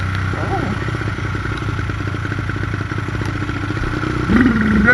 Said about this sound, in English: I think they like the sound of my bike.